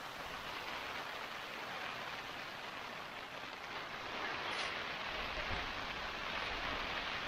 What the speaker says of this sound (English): Got rain.